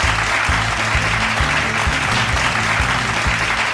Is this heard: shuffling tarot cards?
no